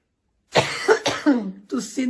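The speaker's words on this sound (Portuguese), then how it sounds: "Tossindo nas roupas dos outros." A girl coughs several times in short bursts, close and fairly loud, with throat-heavy, voiced hacks spread over about a second and a half.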